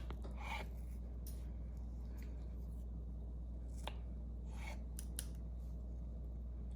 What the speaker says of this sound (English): I just cut them in half.